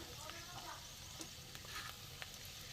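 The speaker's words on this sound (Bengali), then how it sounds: "ফোড়নটাকে আগে একটু গরম করে নেবো ভালো করে ভেজে নেব" Whole spices sizzle in hot oil for tempering: cumin seeds, cardamom, a dried red chilli, cloves and a bay leaf. A steady, close frying hiss with faint stirring clicks, and no voices.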